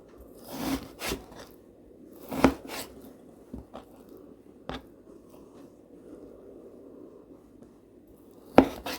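Knife cutting meat pieces in half for plov on a board, several sharp separate chops and taps at irregular intervals, close and fairly quiet, with faint rubbing between strikes.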